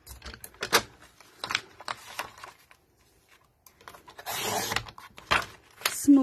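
Alcohol-marker-friendly cardstock cut down to size for card-making, with intermittent sliding and clicking trimmer sounds, a longer rasping cut near the end, close up and fairly quiet.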